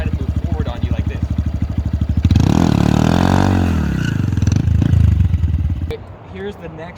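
A Honda Grom motorcycle revs hard, its engine note rising and falling sharply as the clutch is dumped, loud and close, then cutting off abruptly near the end as the bike settles.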